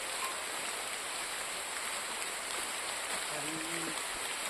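Steady rain falls in a dark forest at night, a continuous even hiss of drops with a brief low tonal sound near the end.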